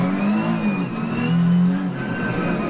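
Porsche 917K race car engine in Assetto Corsa revving hard, a loud continuous wail rising and dipping with throttle and gear changes.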